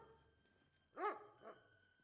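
A dog in a medieval game gives two barks, a louder one followed by a softer one, against quiet background ambience.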